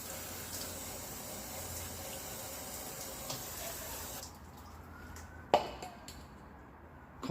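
Old engine oil draining from a Vauxhall Vivaro during a service, a faint steady trickling pour that thins out midway, followed by a sharp metallic clink and a few quiet knocks.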